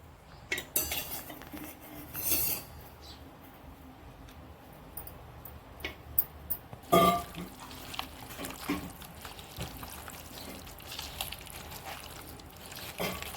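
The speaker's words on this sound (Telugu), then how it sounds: "ఇలా ముక్కలకు మసాలా పట్టి మంచిగా కలుపుకోవాలి." Chicken pieces being mixed with masala for biryani, with cutlery and bowl clinks scraping intermittently, a few sharper knocks, and water running briefly, close and moderately loud.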